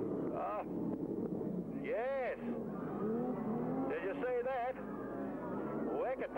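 Saloon race cars in a 1982 Australian championship race, engines roaring and rising in pitch as the cars pass at a distance, under continuous excited race commentary.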